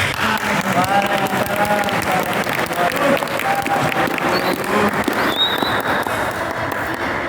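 Lively applause from a crowd at a cadre training session, loud and continuous, with voices and a few cheers mixed into the clapping.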